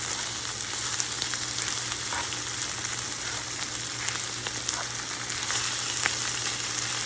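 Okra frying in a pan with coriander powder as it is stirred, a steady loud sizzle throughout with faint scraping ticks, no voices.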